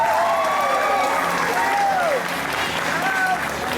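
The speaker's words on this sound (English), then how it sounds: "Give her a big round of applause," A live stage show audience gives a volunteer a warm round of applause with some cheering, loud and sustained clapping with rising and falling vocal whoops over it.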